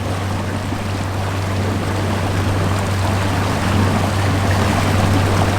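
A Torqeedo Travel electric outboard motor drives a Highfield roll-up inflatable dinghy at full throttle, giving a steady, loud low hum over a continuous rush of water that holds unchanged throughout.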